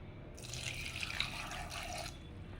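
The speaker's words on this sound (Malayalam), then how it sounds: "ആവശ്യത്തിനുള്ള വെള്ളം ഒഴിച്ച് കൊടുത്തു" Water pours steadily into a pot of vegetable curry for about two seconds, a close, continuous splashing rush that starts and stops cleanly.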